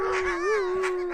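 A high-content wolf dog lets out a single close, sustained howl that wavers slightly in pitch, with faint background noise and no speech.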